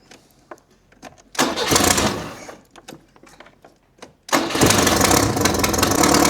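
A Renault 6 engine with a badly leaking exhaust cranks and catches, then runs loudly with a raspy roar. It dies back briefly before settling into a steady, close, continuous run.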